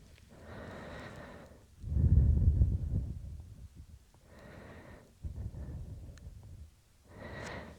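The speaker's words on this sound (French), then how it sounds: "Quelques respirations amples." Slow, deep breaths during a yoga rest in child's pose, several long inhales and exhales in an even rhythm, close and soft with one fuller, louder breath near the start.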